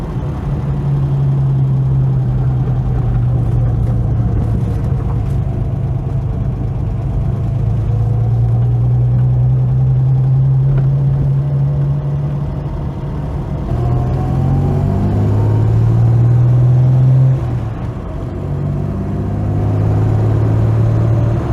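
A MK1 Ford Capri, back on the road after sitting for eight years, drives along with a steady low engine drone that rises and falls in pitch through the gears, close and loud throughout.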